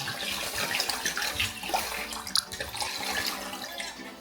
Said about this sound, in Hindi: पानी से धो लेते हैं।